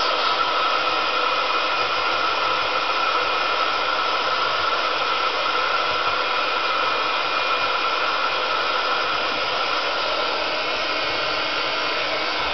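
A heat gun blows steadily for the whole stretch to heat-set a craft sheet, giving a loud, constant airy roar with no breaks and no one talking.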